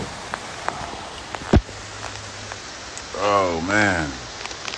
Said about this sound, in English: It is raining at the resort.